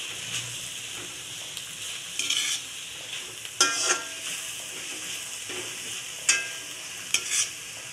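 Quiet background sizzle of a dill and moong dal vegetable cooking in a pan, broken by several distinct bursts of stirring and spatula scraping spaced a second or so apart.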